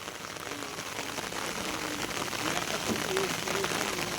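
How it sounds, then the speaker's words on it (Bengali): Rain falls on surfaces outdoors near a tractor being serviced, a dense, steady patter of drops with a continuous hiss, moderately loud throughout, with faint voices in the background. "বৃষ্টি হচ্ছে, আওয়াজ পাচ্ছেন কিনা জানি না।"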